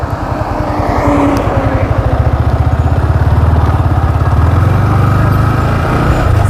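A motorcycle engine runs steadily while the bike is ridden and shifted up through the gears, a low continuous throbbing drone that rises and settles with each gear change, close and loud throughout with no talk.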